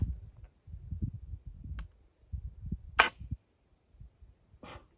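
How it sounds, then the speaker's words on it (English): A flintlock fires a black powder charge made from hay bale powder, giving one sharp crack a few seconds in, with a second faint snap later, set among low rustling handling noise outdoors. "New flint. Shot number two with the hay bale powder."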